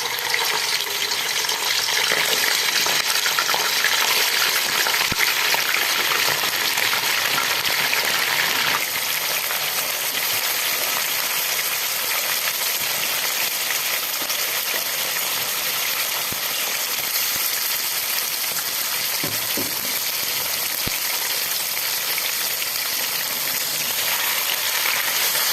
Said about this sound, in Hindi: अब हम इसमें चिकन शामिल करेंगे और इसको ब्राउन होने तक इसको